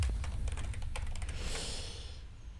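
Rapid keystrokes on a computer keyboard, a quick run of close, crisp clicks that taper off over about two seconds, with faint breathing and no talk.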